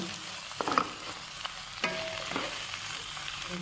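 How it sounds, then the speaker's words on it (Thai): Minced pork stir-fries with salid flowers in a pan, giving a quiet, steady sizzle broken by a few sharp scrapes and clinks of the spatula as the mixture is tossed. "ตามต่อด้วยหมูสับค่ะ ปรุงมาคลุกเคล้าผสม"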